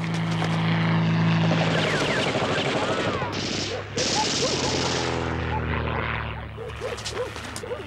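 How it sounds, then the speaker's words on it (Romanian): Propeller aircraft from the Second World War fly overhead in a war-film air battle, a loud sustained engine drone rising and falling, mixed with bursts of gunfire and shouted voices. "Avion de-al nostru!"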